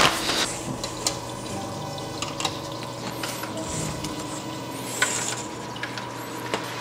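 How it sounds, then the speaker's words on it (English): Water pumped through a marine acclimation drip into a clownfish quarantine setup: a steady low hum with a faint trickle and several soft clicks and squeaks, close and moderately quiet, no talking. "You just kind of pump the water"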